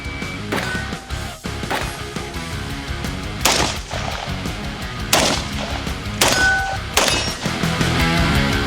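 A rapid series of sharp shots cracks out at irregular intervals while shooting at FPV drones, over a continuous noisy, clattering background, with several louder bursts standing out.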